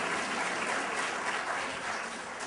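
Audience applause at an MLK Day of Service event in Atlanta: a continuous wash of many hands clapping, fairly loud and even throughout, with no voices over it.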